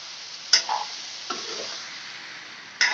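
Ginger and garlic masala paste stirred and sizzling in a pan for a roasted chicken egg curry, with a soft steady fry hiss broken by a few sharp spoon scrapes and clinks near the start and end.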